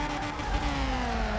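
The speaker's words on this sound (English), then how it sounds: "We are three-wheeling this car on the outskirts of this track." Car in the FR Legends video game tipped up on three wheels along the edge of the track, its engine holding a steady, slightly falling tone, continuous and close.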